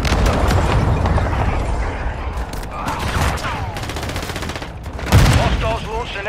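Dense gunfire and explosions from a Call of Duty: Modern Warfare II battle, with continuous loud fusillades, bursts and a heavy boom near the end.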